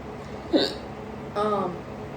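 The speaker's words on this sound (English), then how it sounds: "That hiccup hurt." Two sharp human hiccups, close and fairly loud, the second longer and more voiced, over a steady low indoor background hum.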